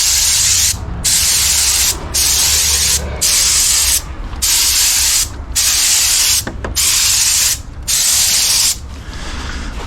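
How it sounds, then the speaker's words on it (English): Odor treatment is sprayed in cross-hatching passes 12 to 18 inches above artificial turf, loud steady hissing bursts about a second long separated by short regular pauses, close up with no talking. "So they said a cross-hatching spray 12 to 18 inches above the ground."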